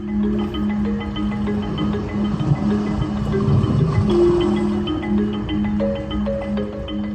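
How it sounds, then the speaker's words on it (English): Soft music with sustained tones plays over a constant watery wash, the two blended at a moderate, even level throughout. "it also plays music while you're listening to some water sounds"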